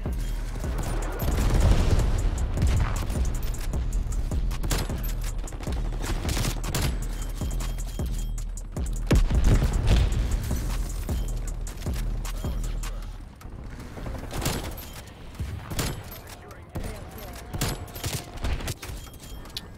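Repeated shotgun blasts in a first-person shooter video game, fired in uneven bursts of sharp, loud cracks over a steady low background rumble for most of the clip, with no talking.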